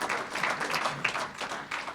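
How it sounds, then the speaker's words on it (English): Audience applause at a university hall of fame induction ceremony: a room of people clapping in a steady, moderately loud patter with brief swells, no talking over it. "You can clap for that"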